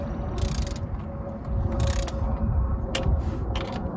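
A ratchet snugs down four bolts on a TPS sensor on a Chevrolet or GMC truck engine, giving off repeated quick clicking bursts close by over a steady low background hum.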